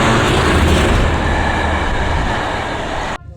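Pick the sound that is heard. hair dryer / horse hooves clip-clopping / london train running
london train running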